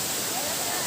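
Purikot Falls pours in a steady, close rushing roar of falling water, broadband and unbroken for under a second.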